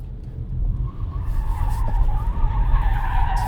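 Ford Mustang Mach-E tyres skid across a wet, partly drying skid pan, a steady broad hiss of rubber sliding with a faint squeal over continuous road noise.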